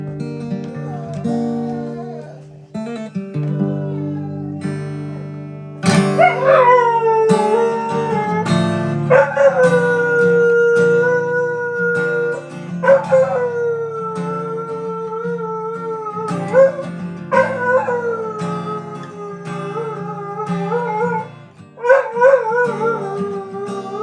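A dog howls and yips in long, rising and falling wails with repeated breaks, close and loud, with a person's voice briefly prompting it.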